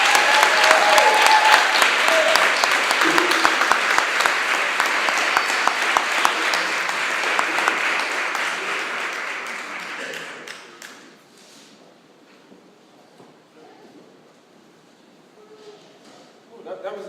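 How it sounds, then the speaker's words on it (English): A summit audience applauds a speaker in a steady, dense wash of clapping that holds for about ten seconds and then drops away, with a voice speaking faintly afterward. "Please, let's give a round of applause."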